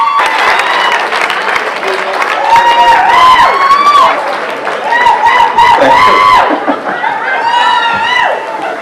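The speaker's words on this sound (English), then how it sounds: "So how about a nice round of applause for Woburn's own Lee Morrison." A crowd at a country music singing contest applauds steadily while cheering and shouting rise over the clapping, with some chatter mixed in throughout.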